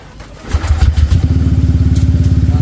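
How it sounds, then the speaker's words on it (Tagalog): Motorcycle engine with a failing spark plug starts up close and loud, then settles into a rapid, uneven, pulsing idle that throbs and wavers. "Ito, paiba-iba yung idle niya."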